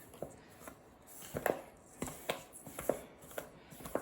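A pastry tool or utensil chops cold butter into a flour and sugar crumb mixture for an apple pie topping, giving soft, irregular thuds and scrapes at close range, fairly quiet, with no talking.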